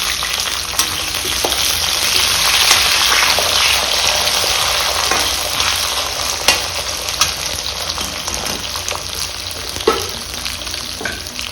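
Half a kilo of brinjal with ivy gourd frying in a pan, a steady loud sizzle with occasional stirring clicks and scrapes throughout, no voices.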